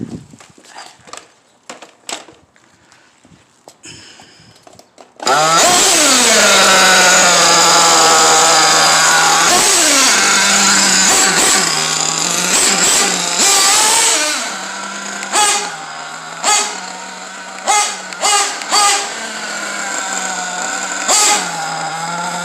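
An engine started on a cold morning and left to warm up: it catches abruptly after some handling noises, then runs at a loud, steady idle close by, with repeated short blips of revving.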